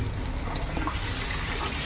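Water is poured into a pan of fish curry with potatoes, giving a steady close splashing rush throughout.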